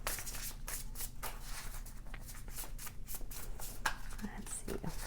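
Tarot cards are shuffled and drawn by hand in a steady run of rapid riffling, flicking card sounds, close and fairly loud, with a few sharper slaps as cards are laid down.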